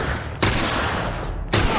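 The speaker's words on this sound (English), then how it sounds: "I shot you in the tummy." Gunfire in The Last of Us video game, two sharp loud bursts about a second apart, each followed by a rough noisy decay that fills the gap, with no talk.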